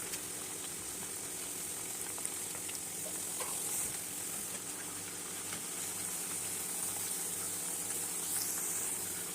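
Maddur vada frying slowly in hot oil over medium heat, a steady bright sizzle and bubbling crackle that continues evenly and fairly quietly throughout with no voices.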